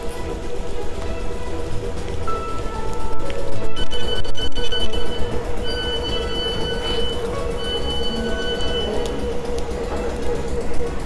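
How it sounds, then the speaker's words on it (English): A passenger train bound for London rumbles along the tracks with steady rolling noise, a few faint squeals and clatters, loud and continuous, heard from inside the carriage. "Our train is here, let's get in."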